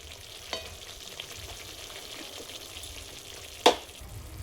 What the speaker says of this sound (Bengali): এই মশলা কষতে কষতে সুন্দর কিন্তু কালারটাও কিন্তু এসে যাবে